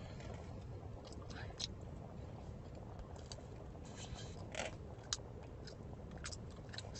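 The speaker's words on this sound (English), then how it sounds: "y'all see I'm chewing this gum." Gum chewed close to the mic, soft wet clicks and smacks scattered irregularly over a low noisy background.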